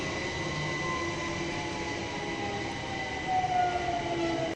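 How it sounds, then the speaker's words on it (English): A train in a video game village passes at a distance as a steady, broad rumble and hiss with faint whistling tones that swell slightly near the end, no talking over it. "And also just like the sound of a train passing."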